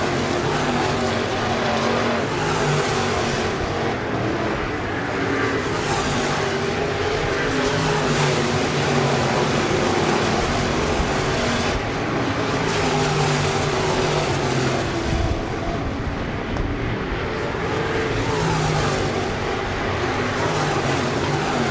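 Modified race cars roar around the Crawford County Speedway dirt oval during the 2019 Spring Fling race, a loud continuous engine drone that swells and fades slightly as the pack passes.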